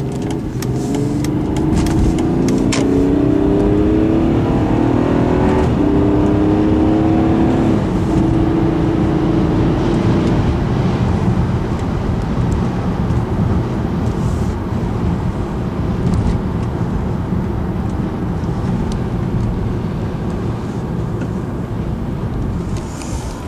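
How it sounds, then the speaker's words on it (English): A BMW car drives and accelerates, its engine note climbing steadily in the first seconds and then settling into a continuous loud cabin hum and road rumble for the rest, with no talking. "What a beautiful car this is to drive."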